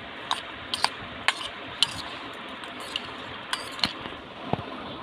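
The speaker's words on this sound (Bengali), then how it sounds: "এখানে দেখো এর মধ্যে সোয়াবিনগুলো দিয়ে দিচ্ছি, দিয়ে আমি ভালো করে মাখিয়ে নিচ্ছি।" Soybean chunks are mixed in a pan, giving soft, steady stirring noise with sharp, irregular clicks of a utensil striking the metal, fairly quiet and close.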